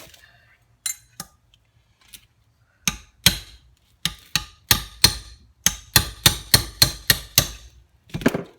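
An old cold chisel is hammered along a Norton Commando 750 motorcycle part, giving sharp metallic clanks, a few sparse strikes and then a fast, regular run of hits, close and loud.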